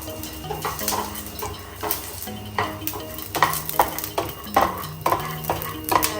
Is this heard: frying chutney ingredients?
yes